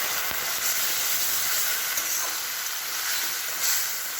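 Fish fries in a pan with onion and mustard paste, giving a steady, loud bed of sizzling hiss that stays even throughout with no talking.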